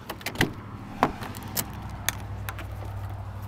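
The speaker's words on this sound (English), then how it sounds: "And let me open the door here." A 2007 Toyota 4Runner in gunmetal black has its door opened, giving a few sharp latch clicks and knocks over a steady low idle-like hum, close by with no talking.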